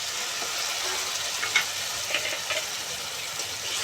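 Spices including turmeric, chilli, cumin and coriander powder sizzle and hiss loudly in a pan as a little water is added, with a few sharper spits and pops rising over the constant frying noise.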